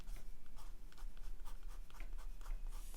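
An 05 ink brush writes on paper with steady soft rubbing and light scratchy strokes, close and continuous, with no talking.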